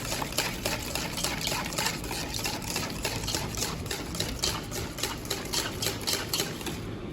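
Cheesecake batter with starch and vanilla is stirred by hand in rapid, regular strokes, making an even scraping and slapping rhythm close to the microphone that lasts the whole time.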